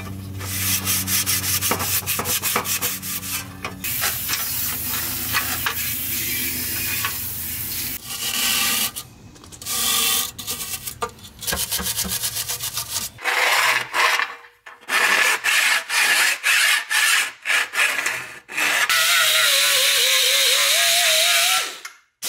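A Scotch-Brite pad scrubs a KOYO aluminum radiator in a garage, producing loud, continuous abrasive rubbing strokes in uneven bursts with brief pauses, ending in a steady harsh scouring passage.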